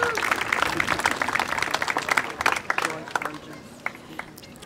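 A crowd at a zoo reopening ceremony claps and applauds, dense clapping that thins out toward the end into scattered claps, with voices mixed in.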